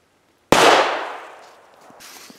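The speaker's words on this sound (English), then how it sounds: "So the last shot I did read over 110 decibels" A single loud gunshot fired through a pillow used as a makeshift silencer, a sharp close blast after silence that decays over about a second, followed by faint handling noise.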